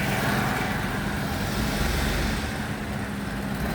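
A car driven slowly during a driving lesson, a steady low engine and road rumble from inside the cabin, loud and continuous with no voices.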